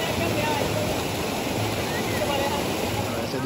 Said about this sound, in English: So I decided to walk up the waterfall a bit.